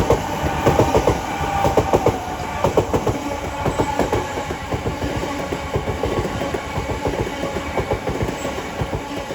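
A Southeastern Class 376 electric train runs past at New Cross on the South Eastern Main Line, heading from London Charing Cross to Hayes, its wheels beating a steady clickety-clack over the rail joints close by for the whole stretch.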